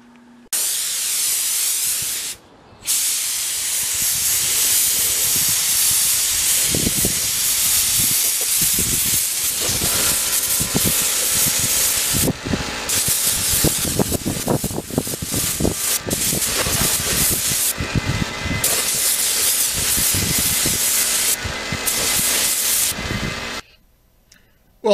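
A spray gun hisses steadily while laying clear coat on Kawasaki motorcycle parts, a long continuous spray broken by brief pauses near the start and end.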